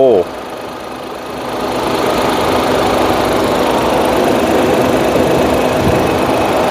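A 2022 Honda City 1.0-litre turbo engine runs steadily at idle, a constant mechanical hum and rattle that stays close and even throughout.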